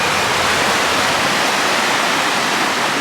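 Flowing stream water along the Metcalf Bottoms Trail in the Smokies, a dense steady rush heard close and loud, unbroken and without voices.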